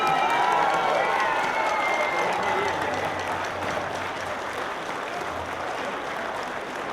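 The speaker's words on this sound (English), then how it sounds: "give me a big round of applause to welcome home our class of" A crowd applauds to welcome home Honor Flight veterans. The clapping is sustained and slightly distant and mixes with cheering and crowd murmur. A voice rings out over it at the start.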